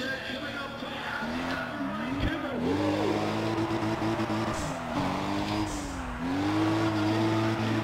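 Tuned engine drone from a Toyota Supra drifting in the racing game Need for Speed The Run, pitch swinging up and down as the throttle is worked, with tire squeal woven through a steady loud bed.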